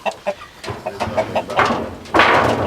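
A caged hen clucks in a series of short, close calls, then a louder burst of squawking flutter near the end.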